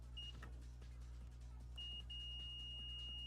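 A multimeter on continuity setting gives a short steady tone, then a brief stutter and a longer sustained beep, clear and close over a low electrical hum while probing arcade power supply wiring back to the plug.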